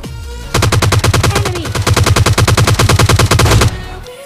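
Rapid automatic gunfire in PUBG Mobile Lite, a steady burst of about three seconds of fast, evenly spaced shots, loud and close with no talk over it.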